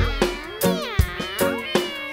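A person imitates a cat meowing in a children's animal-sounds song, with several rising and falling meow calls in quick succession, close and clear, with no other talk.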